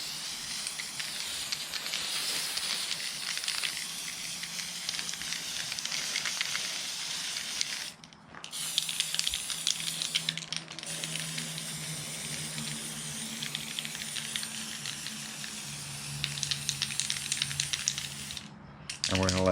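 Spray paint mists onto an Arrma Limitless RC car body in cold weather, a steady close hiss that stops briefly three times before starting again.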